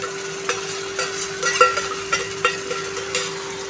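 Ginger-garlic paste frying with onions in a pan gives a soft, steady sizzle, with light scraping stirs returning every half second or so, close and moderate in level, with no talking.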